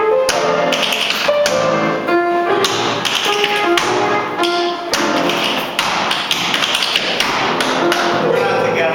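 A tap dancer's shoes strike a hard floor in quick, rhythmic runs of crisp taps and heavier thuds that keep going steadily throughout.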